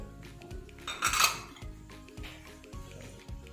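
Metal utensils clink and scrape against a pan as cabbage is mixed into chicken chow mein, with a louder clattering burst near the middle and softer repeated knocks after it.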